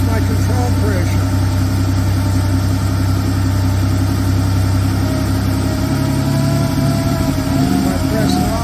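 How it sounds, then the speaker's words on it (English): A 1976 Porsche 930 Turbo engine runs steadily up close, a loud low rumble with a shifting tone as it begins to stumble, with no talk over it. "see how the engine's starting to lose it?"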